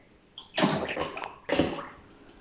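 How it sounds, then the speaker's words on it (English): Cordial splashes and gurgles into a jug in two short pours, the first longer, the second briefly trickling out, close by with no talking. "Pour in the amount of cordial you want."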